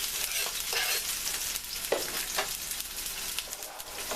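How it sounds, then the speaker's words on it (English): Garlic sizzles in a hot pan and is stirred around, giving steady frying crackle broken by short scraping strokes of the utensil. Close and fairly quiet, with no talk. "And then I'm going to add my garlic bulbs. Mix that around."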